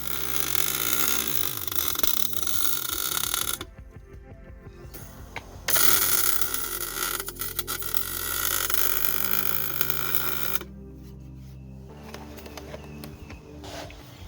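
MIG welding on the differential of a 2004 BMW 320i: loud, crackling buzzing arcs in long bursts with short pauses between them, close up.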